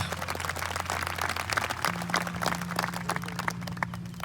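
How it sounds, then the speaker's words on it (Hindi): A church congregation claps together in thanks during worship, a dense steady patter of many hands over sustained music tones throughout. "ताली बजाकर धन्यवाद करो खुदावंद का।"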